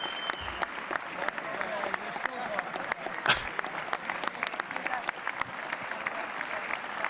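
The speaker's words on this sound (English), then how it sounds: "The clapping will go the whole speech?" Steady applause from a big crowd fills a presidential address to Congress, a dense continuous clatter of many hands with a brief louder swell midway.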